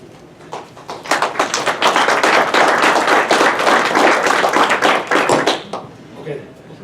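An audience at a public meeting in South Dakota bursts into applause, a dense, steady wash of clapping that swells quickly, holds for about five seconds, then tapers off.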